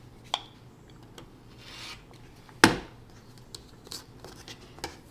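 Scissors trim quilt fabric up close: a quiet rasp of rubbing material, a few light snips, and one sharp louder cut midway, all without speech.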